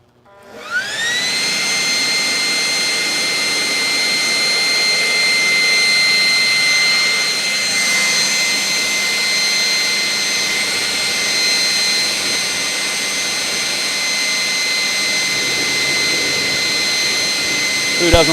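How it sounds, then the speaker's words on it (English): Forced air blasts ash out of a fireplace, a loud, steady high-pitched whoosh that starts at once and holds for about eighteen seconds before cutting off. "Who doesn't like forced air? This is where Jared has to close his eyes so he doesn't get dust in his eyes."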